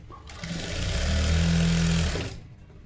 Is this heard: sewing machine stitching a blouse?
yes